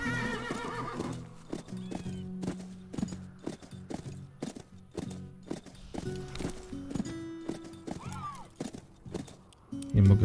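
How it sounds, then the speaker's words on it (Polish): Horse hooves gallop in a steady, rapid rhythm in the western game Call of Juarez: Bound in Blood, with a loud whinny near the end, over tonal game music and effects. "Nie mogę pozwolić, żeby mój koń się zmęczył."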